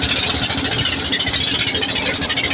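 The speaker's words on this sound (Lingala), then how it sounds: "euta son ya moteur nango soki eza kotambola esalaka kaka dakadakadakadakadaka" The motor of a boat chugs with a steady, loud, rapid throb that keeps an even pulse throughout, with no voices over it.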